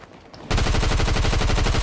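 Nemesis gun firing in Fortnite: after a short quiet moment, a loud, rapid automatic burst that runs on unbroken as a dense rattle of shots.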